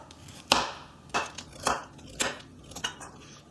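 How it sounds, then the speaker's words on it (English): A kitchen knife slices carrots diagonally on the bias for chicken soup, giving about six sharp, separate chops spaced roughly half a second apart, close and clear, with no talking. "Now, the only vegetable I do cut are the carrots. And I cut them what's called on the bias, which is sort of diagonally,"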